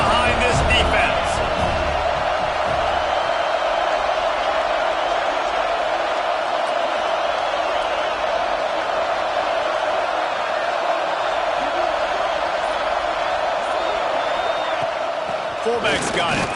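A college football stadium crowd in the video game College Football 26 roars as a continuous, loud wash of noise for the whole stretch, steady and dense without clear breaks.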